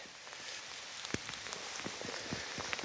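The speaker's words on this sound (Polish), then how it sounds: "Powiem Wam tak wieje, leje niemiłosiernie dzisiaj." Heavy rain pours steadily in a forest during mushroom picking, a dense close hiss dotted with individual drops pattering on nearby surfaces, with no voices.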